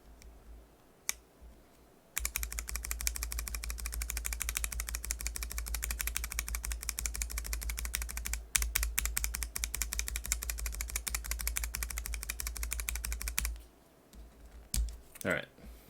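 Rapid, continuous typing on a mechanical keyboard fitted with NovelKeys BOX Cream switches, heard up close as dense clacking that runs for several seconds, then stops with a few isolated clicks.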